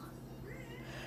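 A house cat meows indoors, a short, fairly faint call lasting about a second over a steady low background hum.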